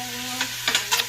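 Sausage for a seafood gumbo sizzles in hot oil in a pot, a short close burst of frying crackle with a few sharper pops from stirring.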